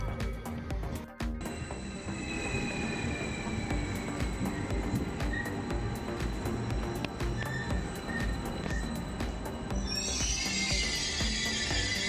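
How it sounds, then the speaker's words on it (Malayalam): A Luxembourg CFL passenger train at a main railway station gives a continuous, dense rumble with metallic squeals and clatter, steady and fairly loud throughout, joined by a brighter hiss near the end. "ലക്സംബർഗ് ട്രെയിൻ കമ്പനിയായ CFLൻ്റെ ട്രെയിനാണിത്."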